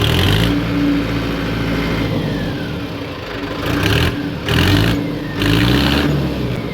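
A Mahindra Arjun Ultra-1 555 DI 50 HP side-gear tractor diesel engine runs loud and close, then revs up in several surges over a steady rumble, with no voices.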